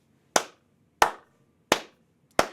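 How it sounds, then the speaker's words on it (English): Four crisp hand claps land at even intervals, each sharp and close with a short decay into silence. No one speaks between them. "These hand claps"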